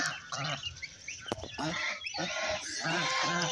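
Domestic geese honk repeatedly in a village yard among ducks and chickens, a string of nasal calls rising and falling over a steady rural background with other fowl chatter.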